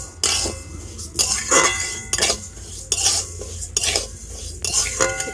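Rice dry-roasted over low heat in a dry wok, stirred with a metal spatula that scrapes and clinks against the pan in repeated bursts of close, fairly loud strokes.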